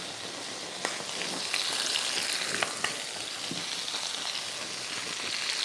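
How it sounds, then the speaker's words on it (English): Water bubbles and boils in a pot for cooking sweet potatoes, a dense steady seething hiss with scattered pops and crackles, close and continuous, with no one speaking. "We've got some water boiling for our sweet potatoes."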